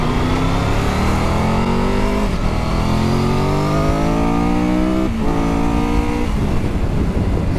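Triumph Tiger 1200 GT Pro motorcycle engine at speed on an open road, a loud steady hum that climbs in pitch through several gear changes, with constant wind rush.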